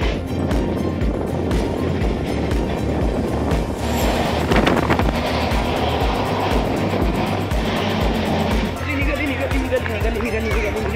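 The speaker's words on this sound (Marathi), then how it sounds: "गाडी निघाली" A car moves along the road toward Akkalkot, its engine and tyre noise forming a steady, close rumble with wind buffeting throughout, while someone talks over it.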